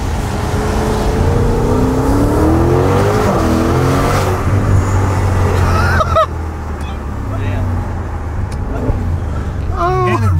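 A Maserati engine roars loudly from inside the cabin under hard acceleration, its pitch climbing through the revs before a break and a second climb, with voices talking over it.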